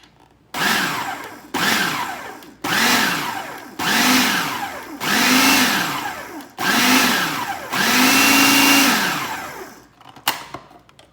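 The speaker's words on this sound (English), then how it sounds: "Now we're gonna take our food processor and we're gonna mix it up." A food processor blends pumpkin pie filling in seven pulses of loud, close motor whine that rise and fall in pitch, separated by short pauses, with a few clatters at the end and no talk.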